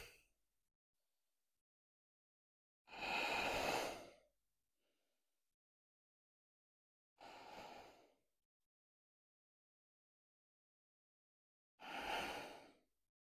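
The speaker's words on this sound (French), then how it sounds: "Je rallonge la respiration." Three slow, drawn-out breaths during Ashtanga yoga practice, each a soft airy exhale or inhale lasting about a second, separated by long quiet pauses.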